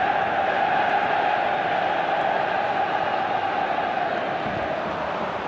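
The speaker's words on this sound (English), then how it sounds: "Crowd calling for him to shoot." A dense, steady roar from a stadium crowd in the football video game eFootball 2022 holds at an even, loud level throughout, with no voices standing out.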